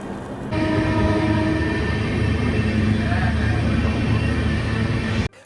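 The Gour Express passenger train with new LHB coaches runs from Sealdah toward Malda Town, making a loud, steady rumble of wheels and carriages that continues throughout and then cuts off abruptly.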